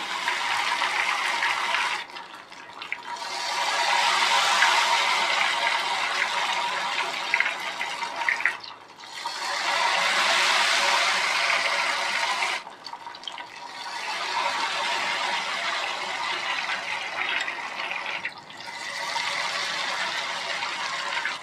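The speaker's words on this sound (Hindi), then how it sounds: "बैटर को बार बार इसलिए डालते हैं कि जितनी बार इसको डालेंगे उतनी ही इसकी परतें बनेंगी।" Ghevar batter poured repeatedly into hot ghee erupts in loud, close, foaming sizzles, about four surging bursts a few seconds apart, each settling into a softer bubbling hiss before the next pour.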